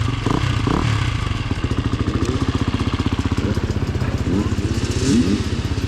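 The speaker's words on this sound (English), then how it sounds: "All the two-strokes revving up, warming up" Two-stroke motorcycle engines of a group ride idling and revving nearby while warming up, a rapid buzzing putter with rising and falling throttle blips, one voice briefly audible beneath.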